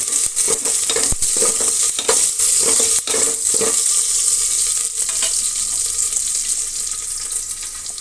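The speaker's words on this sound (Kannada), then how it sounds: "ಈಗ ನಾವು ಇಷ್ಟನ್ನು ಫ್ರೈ ಮಾಡ್ಕೊಳ್ಳೋಣ." Onions and curry leaves fry in a pan with a steady, loud sizzling hiss throughout. Repeated scraping stirs cut through it over the first few seconds, and the hiss gradually eases toward the end. No voices are heard.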